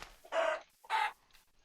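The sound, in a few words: chicken clucking in Minecraft video game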